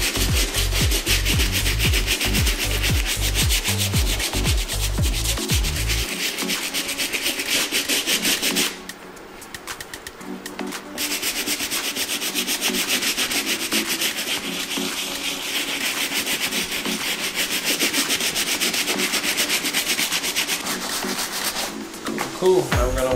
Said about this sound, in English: Now we're gonna move on to the medium bristle brush to get a little bit deeper into that leather.